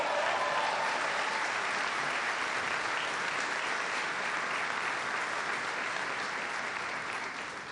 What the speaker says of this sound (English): Give Joe a big round of applause.